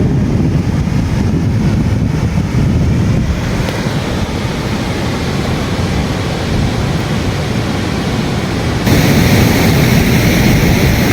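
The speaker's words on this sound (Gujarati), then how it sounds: "જુઓ મીઠું પાણી કેટલું સરસ દરિયામાં જઈ રહ્યું છે" Fresh river water pours into the sea at the Barda check dam near Mul Dwarka, a steady broadband rush of surf and flowing water with heavy wind buffeting the microphone, growing louder and brighter toward the end.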